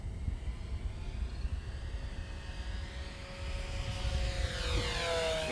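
An RC Durafly Mark 1A Spitfire model warbird makes a high-speed diving pass. Its engine drones and then rises in pitch as it sweeps closer, building to a loud rushing whine at the end.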